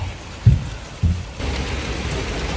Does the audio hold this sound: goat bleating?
no